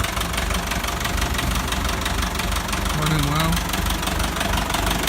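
A rebuilt engine on a vintage Ferguson tractor runs at a steady idle, a loud continuous low rumble with knocking throughout, while someone talks briefly over it.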